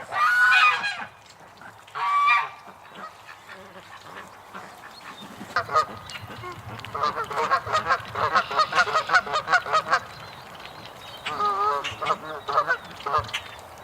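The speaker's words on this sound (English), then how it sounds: "And there's the Canada geese." Canada geese honking loudly nearby at a creek in repeated bursts, several calls overlapping into a noisy, rhythmic chorus with short pauses between outbursts.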